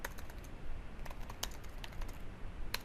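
Light, irregular clicks of typing on a computer keyboard while entering a short label into a business report designer, a quick run of keystrokes with a few sharper taps, fairly close and faint over a quiet room.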